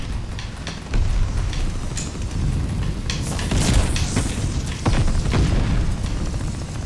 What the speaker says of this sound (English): Oh, they're using shotguns. Okay. Okay, shotgun battle.